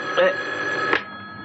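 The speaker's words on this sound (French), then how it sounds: "Téléphone. Tu réponds?" A telephone rings indoors in a dubbed French television drama, two brief ring bursts heard under a voice speaking.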